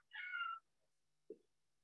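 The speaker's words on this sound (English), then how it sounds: "there's a cat in my backyard" A cat in a backyard gives one clear, drawn-out meow, then after a pause a short, low chirp-like call, both fairly faint against a quiet background.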